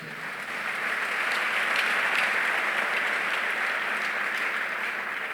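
A church congregation breaks into sustained applause and cheering for Jesus during a sermon, a dense roar of clapping that swells within the first second and holds steady, loud and full, until it fades slightly at the end.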